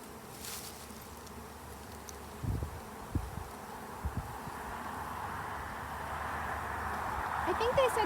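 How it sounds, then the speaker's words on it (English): Honey bees drone around an open hive on a warm, sunny day, a steady insect buzz that swells toward the end, with some handling thumps nearby. "It's such a nice, this is a perfect day to be a bee. The buzz, buzz, buzz"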